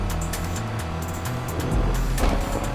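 A car drifts in the racing game Need for Speed Unbound, its engine droning steadily with a low rumble that swells toward the end, with no voices.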